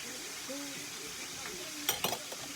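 Pork chops sizzle softly in a pan after being flipped, a faint steady fry joined by a few sharp utensil clinks near the end, with voices murmuring in the background.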